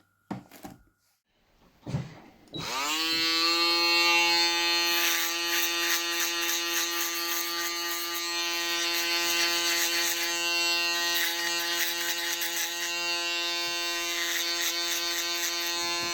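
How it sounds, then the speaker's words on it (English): After a couple of clicks, a Ufree U-1668 electric foil shaver switches on and buzzes steadily at close range for over ten seconds, a loud, even motor hum. "let me show you some clips that he made with this foil shaver"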